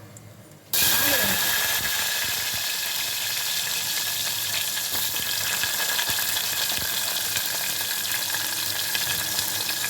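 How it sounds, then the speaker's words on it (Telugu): Dried red chillies, mustard seeds, cumin and fenugreek hit hot oil for a dried fish curry, bursting into a loud, steady sizzle with faint crackles that carries on unbroken. "ఆయిల్ వేడైందండి ఎండుమిర్చి ఆవాలు జీలకర్ర మెంతులు"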